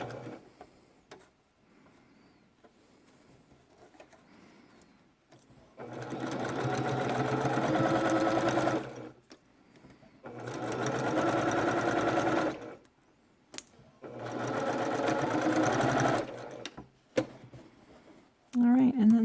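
A sewing machine stitches a seam on a fabric face mask in three sustained runs of steady whirring, each a few seconds long, separated by quiet pauses. The machine sounds close and moderately loud, with faint handling noise between runs.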